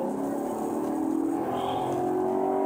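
A 2007 Maserati pulls away after being shifted into first gear, its engine a loud, steady close-up drone that climbs slightly in pitch as it accelerates.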